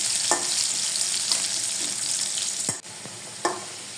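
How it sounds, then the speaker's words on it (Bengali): Potatoes fry in hot oil with a steady, close sizzling hiss, broken by a few sharp clicks and scrapes of stirring. "আর এখন আমি আলুগুলো ভেজে নিচ্ছি।"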